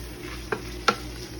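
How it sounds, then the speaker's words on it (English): Beef for enchiladas sizzles softly and steadily in a pan, with two brief sharper clicks of a utensil stirring. "see, that sizzle comes back."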